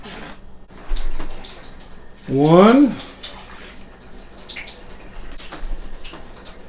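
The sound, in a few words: water poured into a pot on the stove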